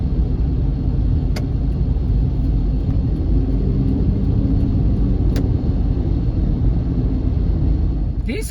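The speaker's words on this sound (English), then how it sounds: "This car just came and overtook me for no reason." A car rushes past on a pothole-filled road, its steady engine rumble and road noise loud and continuous from inside a moving vehicle, with a couple of brief sharp clicks along the way.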